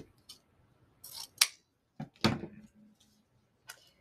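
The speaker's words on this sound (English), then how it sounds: "You're just folding it, the edges together, and then cutting at an angle upward." Scissors snip through mesh ribbon in a few quick, close crisp cuts separated by short pauses, with no speech.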